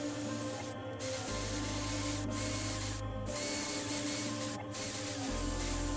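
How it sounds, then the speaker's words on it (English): Steady, loud abrasive whirring of a drill-driven 80-grit sanding roll grinding against an aluminum cylinder head, continuous with brief shifts in pitch and pressure. "I started the polishing process with an 80 grit sandpaper roll."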